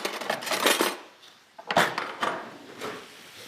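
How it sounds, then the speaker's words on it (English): A spoon stirs vegetables caramelising in a pan. It gives clusters of scraping and clattering strokes with quieter gaps between them, heard close and with no talk. "So we'll give that a little stir."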